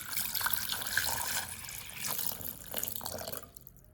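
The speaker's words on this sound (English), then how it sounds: "After buying tomatoes, I wash them like the other vegetables, soaking them in clean water with a little salt to clean the surface." Fresh tomatoes are washed by hand in a basin of clean, lightly salted water, making steady splashing and trickling sounds close by that fade out at the end.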